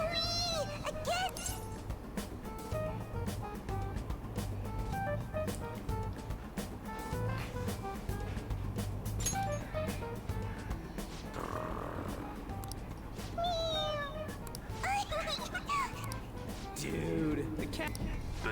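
A cat meows in the video game Persona 5 Royal, several short high mews scattered among game music and a talking voice.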